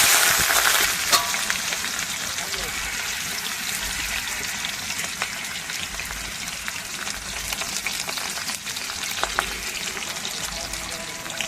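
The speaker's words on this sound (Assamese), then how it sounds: "তেল তেল গরম হয়ে গেল, এখন দি আছো পিঁয়াজ।" Onion sizzles and crackles steadily in hot oil in a pan, a loud, continuous frying hiss with scattered pops and occasional stirring scrapes, with no talk over it.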